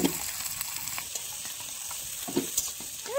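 Chopped onions frying in a pan for a homestyle country chicken curry, a steady low sizzle with faint scraping stirs and a couple of louder clatters near the end, no talking.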